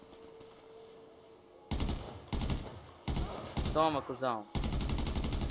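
Bursts of automatic gunfire in GTA V, several loud rattling volleys in quick succession with short gaps, while someone speaks briefly between shots.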